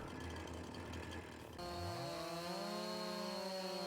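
Chainsaw felling trees in Farming Simulator 22, a steady buzzing motor that shifts pitch partway through and then holds a high whining tone, loud and continuous with no talking.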